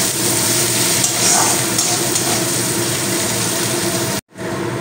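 Chopped onions stirred and frying in a pan for a vegetable curry, giving a steady, loud broadband sizzle with scraping stir sounds throughout and a brief dropout near the end.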